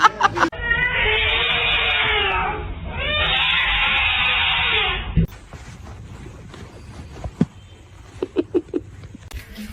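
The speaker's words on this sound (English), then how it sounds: "Get the cat!" A cat meows loudly and close up in two long, drawn-out yowls, one after the other, followed by quieter scattered taps and knocks.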